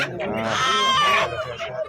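Chickens, roosters and other fowl at a busy live poultry market selling ducks, hens, pigeons and cage birds, clucking and squawking close by in a dense, continuous chorus, with people talking in the background.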